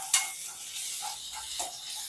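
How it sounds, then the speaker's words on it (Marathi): Onion with ginger garlic paste sautéing in a pan, a soft sizzle with a couple of sharp scraping stirs of the spoon, close and brief with no speech. "कांदा थोडा परतलेला आहे, त्याच्यामध्ये अद्रक लसूणची पेस्ट टाकूया।"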